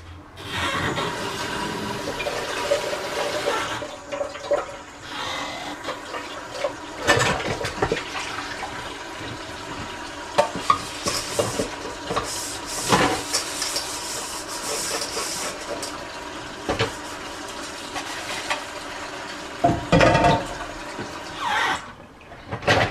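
Water running from a tap during dishwashing, a continuous hissing splash with clatters and knocks of dishes throughout, fairly close, with no talking.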